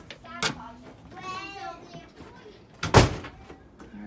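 A front door in a newly moved-into house is unlocked and opened: a sharp click early on, then a louder close knock or thump a few seconds later, with quiet indoor background between.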